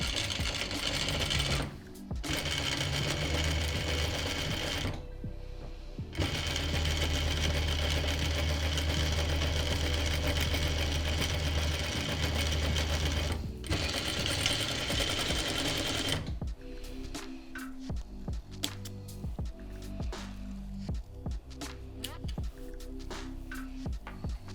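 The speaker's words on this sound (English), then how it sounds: "I place face to face, and I just remind myself it was like 1/4 inch, and start sewing our mask" Sewing machine stitching a homemade fabric face mask, a loud steady mechanical whirring in long runs broken by short pauses, then lighter intermittent clicks and handling as the stitching stops.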